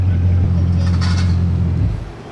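A Bugatti Chiron engine with aftermarket exhaust rumbles deep and powerful, steadily close by, then drops away near the end, leaving quieter background.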